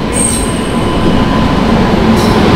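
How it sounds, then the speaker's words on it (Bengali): Ranikhet Express train pulling into Gurgaon railway station, a loud continuous rumble of railcars with a high steady wheel squeal over the top, steady and close, with no voices. "আমাদের ট্রেন রানীক্ষেত এক্সপ্রেস আসছে"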